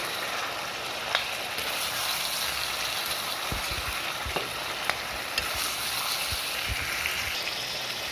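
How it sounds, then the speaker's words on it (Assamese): Chicken curry meat being stirred with salt in a pan, a steady close sizzle and fry with scattered scrapes and clicks of the spoon throughout, no talking. "নিমখ দি কিনে ভালদৰে লৰাই দিছোঁ মাংসটো"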